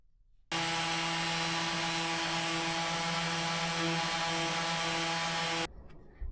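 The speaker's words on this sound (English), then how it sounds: "Got it sanded down." A power sander works on a small wooden heart, giving a steady, close, high-pitched whirring hum for about five seconds before cutting off abruptly, with no talking.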